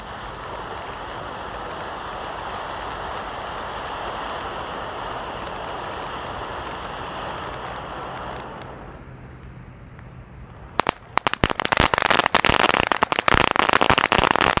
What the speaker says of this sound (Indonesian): yang kita nyalakan di sini ada conic fountain ukuran 4 inci.